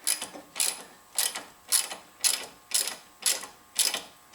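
A wrench works the inner bolt of a 2010 Mazda3 front shock, giving eight evenly spaced ratcheting clicks close by, each a short mechanical burst repeating about every half second.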